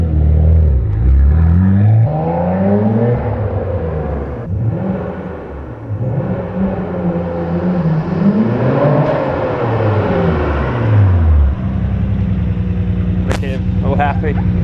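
A Nissan Skyline R32 GTR pulls hard in first gear, its engine revving up and down in rising, falling sweeps, loud and close, settling into a steady idle with a brief sharp click near the end.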